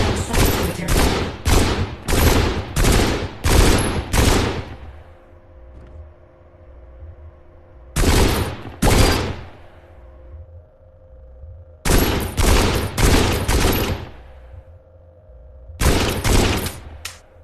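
Loud gunfire in a VR shooting game, with rapid bursts of shots in several clusters separated by short pauses, close and dominant.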